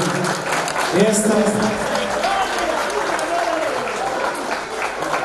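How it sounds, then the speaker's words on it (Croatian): Wedding guests applaud continuously as the couple is sent off, a loud, dense round of clapping with crowd murmur, a short spoken interjection and music running underneath. "Ispratite ih aplauzom."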